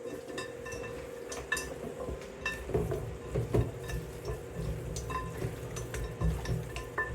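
Goat meat tossed with Grace all-purpose seasoning in a bowl gives repeated wet slaps and metallic clinks of a utensil against the container, steady and close with a faint background hum.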